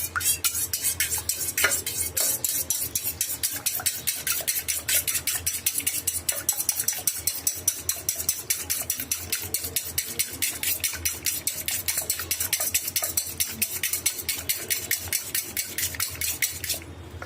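Two eggs whisked in a bowl, a fast, even rhythm of utensil clicks against the bowl repeating throughout, close and fairly loud.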